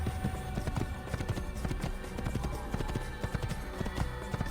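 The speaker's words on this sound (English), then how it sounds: "I do like riding the horse though." Steady clip-clop of horse hooves at a trotting rhythm in Assassin's Creed, close and continuous, with a brief whinny and busy game background sound.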